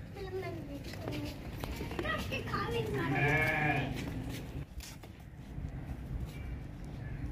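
A male goat bleats once in a livestock market setting, a clear wavering cry in the middle of the clip, surrounded by someone talking nearby.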